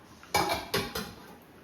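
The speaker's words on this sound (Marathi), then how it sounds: "आता पटापट मी वरण भाताचा कुकर लावून घेते" Metal pots and a pressure cooker clink and knock in a home kitchen while dal and rice are set up to cook, two or three close, distinct clanks spaced about half a second apart over a quiet background.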